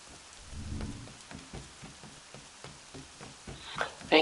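Rain patters steadily in an Assassin's Creed game scene, a soft irregular hiss with a low rumble of distant thunder early on and a few sharper splashes near the end.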